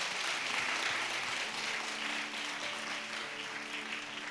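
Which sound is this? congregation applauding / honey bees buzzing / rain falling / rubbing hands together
congregation applauding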